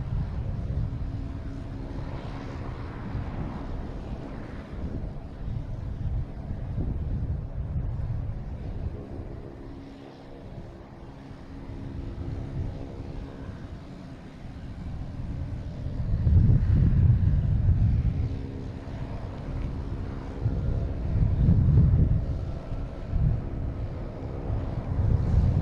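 Boutique Air propeller plane engines run at Boston Logan Airport, a steady low droning roar with wind buffeting the microphone, swelling louder in two surges toward the end, heard alone without talk.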